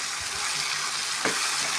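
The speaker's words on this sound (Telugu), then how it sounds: "నూనెలో బాగా ఉడకాలి" Stuffed ivy gourd (gutti donda) frying in hot oil, giving a steady, fairly loud hiss and sizzle for a couple of seconds, with a few soft bumps of stirring.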